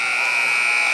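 A game-ending buzzer at a girls' high school basketball game between Harlan and Kuemper Catholic, a loud, steady electronic drone that holds unbroken for the whole second.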